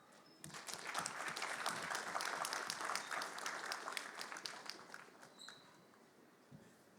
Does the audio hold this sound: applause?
yes